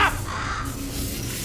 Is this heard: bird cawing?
yes